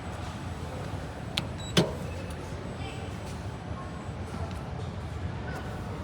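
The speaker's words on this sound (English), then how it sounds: "let's go ahead and take a ride on this brand new elevator" A faint, steady motor hum comes from a brand new Schindler 5500 scenic elevator at a store in SouthPark Mall as it runs, with a few soft clicks and knocks over the drone.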